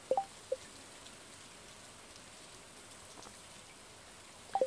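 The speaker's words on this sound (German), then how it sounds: "Die Regentropfen sind auf dem Metalldach unseres Wohnwagens wirklich laut." Raindrops drumming on a caravan's metal roof in the game Stardew Valley make a steady, soft, even patter, with a few brief brighter tones at the start and end and no voices.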